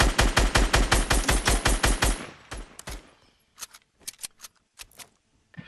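A SCAR assault rifle firing in a video game, a fast burst of about fifteen loud, punchy shots in even rhythm, then a pause and a scattering of quieter, distant shots.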